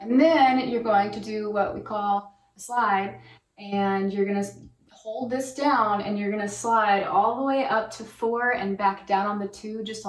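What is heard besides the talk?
No everyday noise stands out behind the speech.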